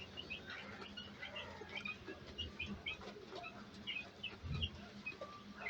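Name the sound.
chickens on a poultry farm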